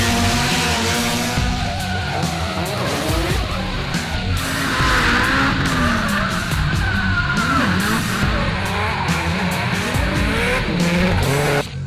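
A Team GT Garage Nissan 180SX drift car skids at an Australian Drifting Grand Prix round at Symmons Plains Raceway, its engine roaring loudly while the tires squeal in long, wavering bursts throughout, close and continuous.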